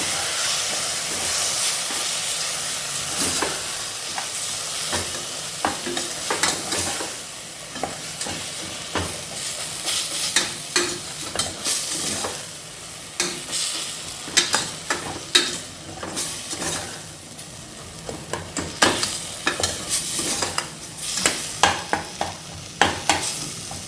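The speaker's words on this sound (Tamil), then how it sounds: "இன்றைக்கி எல்லாத்தையும் சேர்த்து நல்லா கலந்துக்கலாம்." Mushroom biryani ingredients are stirred together in a cooking pot, with repeated scraping and clattering strokes over a steady sizzling hiss, the stirring growing busier and sharper toward the end.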